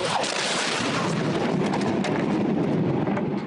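A massive explosion at the West Texas fertilizer plant gives a continuous, loud and dense roar that rumbles and crackles without a break, as if from a distance, with no talking.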